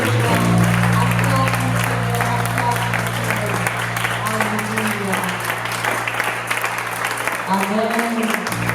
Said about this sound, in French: Est-ce que tu peux bien acclamer le Seigneur?